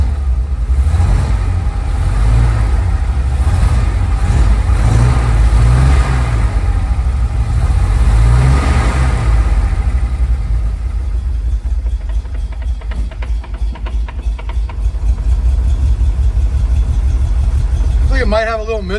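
A 1969 Chevy C30 truck engine runs steadily up close, a loud continuous rumble with slight revving swells and a possible misfire, while people talk over it.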